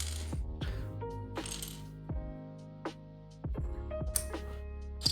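Keyboard switches pulled out by hand instead of with a switch puller, making a scattered series of light plastic clicks and clinks, close and crisp, with short gaps between them.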